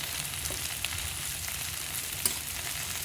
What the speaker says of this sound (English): frying our meat